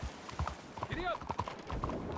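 Horse hooves clip-clopping at a trot in Red Dead Redemption 2, a quick close rhythmic beat of hoof strikes with a brief whinny mixed in and speech alongside.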